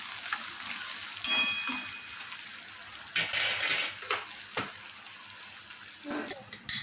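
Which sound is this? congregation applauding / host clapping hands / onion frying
onion frying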